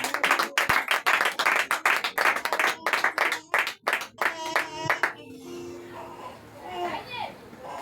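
A church congregation at a Sunday service claps in a quick, steady rhythm and cheers, loud and near. The clapping breaks off after about five seconds, leaving murmured voices and scattered children's chatter.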